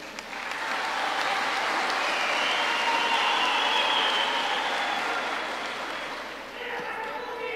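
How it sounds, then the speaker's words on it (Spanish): Sustained applause from a seated audience at a credentials ceremony for officials elected in Cotopaxi, Ecuador, greeting the vice-prefect. A broad, steady wash of clapping swells and holds for several seconds, then eases slightly toward the end. "Un aplauso para su compañero de fórmula,"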